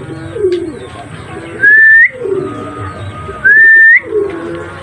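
Pigeons coo softly in a low, repeated rhythm, interrupted twice by a louder rising whistle, with light background noise.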